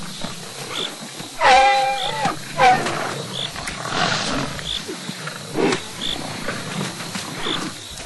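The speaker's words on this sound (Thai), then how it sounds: "เจมมาเชล ติดตามการไล่ล่าของสิงโตมานานหลายชั่วโมงแล้ว" A lion roars at night in the wild, deep rumbling calls repeating several times at moderate distance over steady outdoor noise and night insects.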